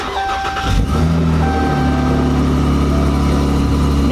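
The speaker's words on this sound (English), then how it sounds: "So, let's get her started." A car engine cranks and catches after the fuel pumps are primed, then settles into a loud, steady idle that holds a constant hum.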